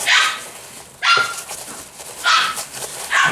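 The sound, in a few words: dog barking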